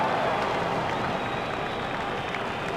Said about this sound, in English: The crowd were brought to their feet by that shot.